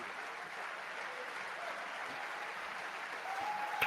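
Steady applause from an audience at a political speech, a continuous even wash of clapping throughout, slightly louder toward the end.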